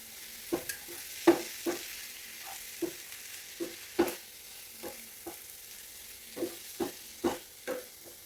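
Eggs cooking in a spiced masala in a pan make a quiet sizzle, while a utensil stirs and scrapes the pan in a dozen or so soft, irregular knocks.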